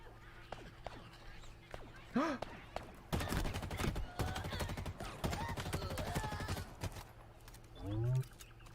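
Weapon reload in the Halo Infinite campaign: a dense burst of metallic clicks and clacks under game music, with excited voices talking before and after.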